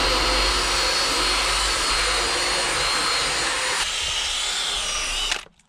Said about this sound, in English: let's go ahead and do our first pass with the extractor